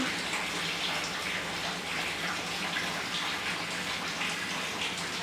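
Water pours over a bathing child in a steady, close, continuous gush like a running tap or poured stream, filling the whole stretch without pause and with no talking.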